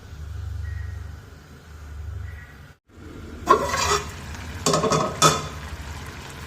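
A pan of Kerala-style dry fish thoran is stirred, starting with a low hum and soft simmer, then a sudden cut and loud bursts of scraping and sizzling as the spoon works through the pan.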